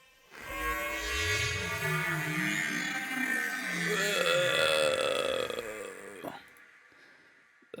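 A pitched-up sample with warbling, gliding tones over a dense, buzzy texture, several seconds of continuous processed sound that cuts off abruptly near the end.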